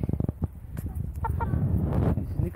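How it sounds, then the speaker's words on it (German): Mechelen hens cluck close by in a run, a string of short repeated clucks followed by busier overlapping fowl calls, with no speech over them. "Zwitschkele, Zwitschkele, Henne, auf geht's"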